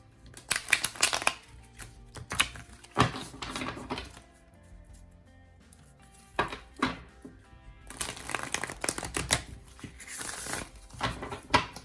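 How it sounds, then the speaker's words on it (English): A tarot card deck being shuffled in bursts of crisp riffling and flicking, several separate runs with short pauses between, close and fairly quiet, with no talking. "this deck is an amazing deck to shuffle"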